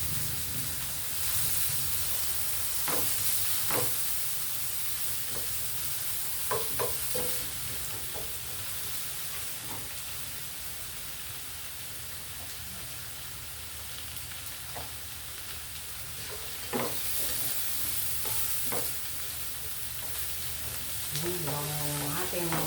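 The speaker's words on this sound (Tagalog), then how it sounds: "Sibuyas, bawang, ilagay na natin." Onion and garlic frying in a pan for a chicken dish, a steady broadband sizzle with intermittent scraping stirs and clinks throughout, close and moderately loud.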